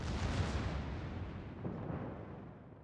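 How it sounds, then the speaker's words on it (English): A torpedo strikes a ship in the naval battle game World of Warships, a single heavy, rumbling explosion that is loud at first and then fades out over a few seconds. "Shoves in the Russian torpedo. There it is. Boom!"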